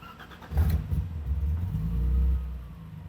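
A BMW E30 sitting on a dyno cranks and fires up, settling into a deep, loud idle rumble with a slight swell in revs before easing back.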